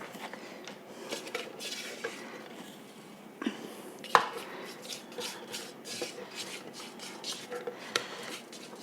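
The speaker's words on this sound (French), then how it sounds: "je vais verser dans le saladier pour essayer de vous montrer" Ground homemade gomasio of sesame and salt poured and tapped from a blender into a salad bowl, with soft scraping, light clinks and a sharp knock, faint and close.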